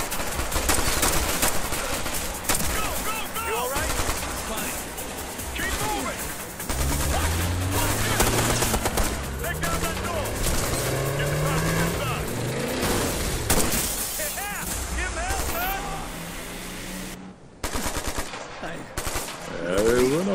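Sustained automatic gunfire and bursts of shots from the video game Ghost Recon Future Soldier, loud and dense throughout, layered with explosions, vehicle noise and game voices.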